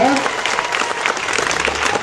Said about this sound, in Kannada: ಜೋರಾಗಿ ಒಂದ್ ಚಪ್ಪಾಳೆ ಹೊಡಿ